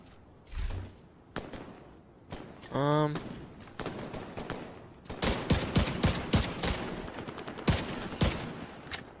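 Automatic weapon fire in The Division 2, several rapid bursts of gunshots rattling out in quick succession across the clip, loud and close, with a voice speaking between volleys.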